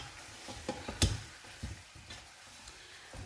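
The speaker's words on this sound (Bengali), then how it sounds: "পেঁয়াজ বাটা, একটু মিশিয়ে নিচ্ছি।" Onion paste is stirred into chicken pulao (morog polao) in a cooking pot: a few soft scraping knocks of a spoon against the pot over a faint, gentle sizzle, close and fairly quiet.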